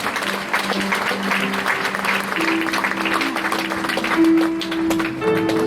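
Crowd at a school annual prize distribution applauds warmly, sustained clapping with a faint steady tone running beneath it throughout.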